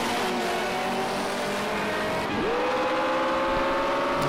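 A Mitsubishi Lancer Evolution VI SVA racing at the Oschersleben A circuit in Project Cars 2 holds a steady, loud engine drone that dips briefly at a gear change and then climbs again as the car accelerates.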